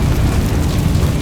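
A Confringo blasting spell from Hogwarts Legacy goes off as a loud, sustained low rumbling burst that fills the whole moment, dense and close with no talk over it.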